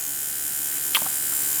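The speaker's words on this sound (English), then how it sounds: "I like to keep my machines running when I'm tattooing." A Rotar Evolve rotary tattoo machine runs with a steady, fairly quiet electric buzz, a constant hum throughout with a faint brief knock partway through.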